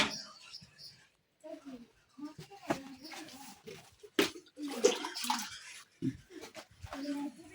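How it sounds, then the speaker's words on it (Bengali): Water is poured into a bucket holding taki fish, splashing in uneven bursts close to the microphone while a person talks. "এখানে এই যে মাছের মধ্যে পানি দেওয়া হয়েছে"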